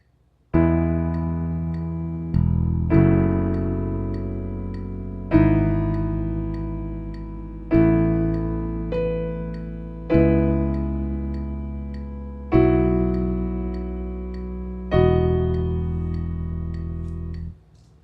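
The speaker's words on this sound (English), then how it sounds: "this time I'm going to add to the track, I'll add a bass guitar, and you can hear what happens" Piano playing slow, sustained chords with an added bass guitar line, each chord ringing out and decaying before the next, eight evenly spaced chord changes, clear and close with no talking.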